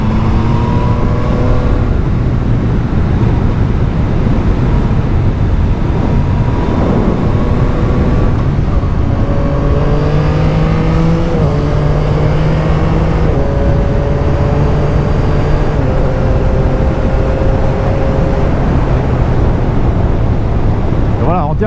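Steady loud wind roar buffeting the microphone while riding a 2022 Yamaha MT-09, with its engine droning and shifting pitch underneath throughout.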